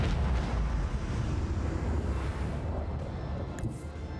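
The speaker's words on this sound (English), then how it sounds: "Macro cannons, annihilate them." Macro cannon broadsides in Warhammer 40,000: Rogue Trader, a heavy rumbling blast that roars at the start and rolls into a long, dense, slowly fading boom, loud and alone without speech.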